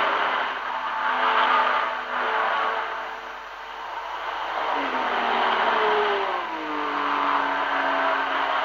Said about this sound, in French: Maintenant que les monstres ont pris le large, les 55 voitures s'étirent sur pratiquement tout le circuit.